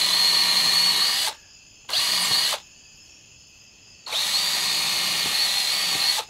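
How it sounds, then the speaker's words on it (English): A power drill whines loudly in two short bursts, pauses, then runs steadily for a longer stretch boring all the way through wood, close by with no talking. "I'm going to take a drill and go all the way through"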